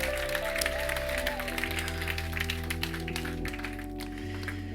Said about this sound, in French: Est-ce qu'on peut aussi applaudir Cyril qui est là fidèlement avec nous?